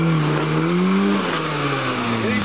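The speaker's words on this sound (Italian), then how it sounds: "Si riempie la marmitta e sputa poi la cannonata" A motorbike engine revs loudly and continuously nearby, its pitch rising and dipping across the short stretch.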